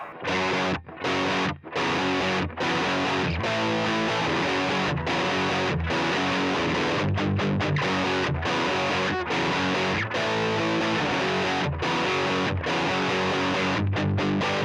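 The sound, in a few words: guitar through distortion pedal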